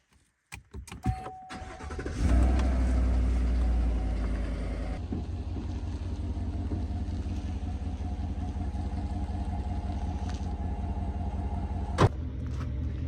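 A truck idles and then pulls away with an Ice Castle fishing trailer hooked behind it, its steady engine drone and road rumble holding close and even for the whole run, with a brief sharp knock near the end.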